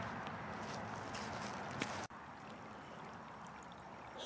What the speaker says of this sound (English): There's the water rustling along.